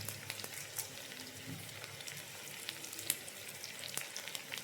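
Dried red chillies and neem leaves fry in hot oil for tempering, giving a faint, even sizzle dotted with small crackles and pops, heard close but quiet with no talking.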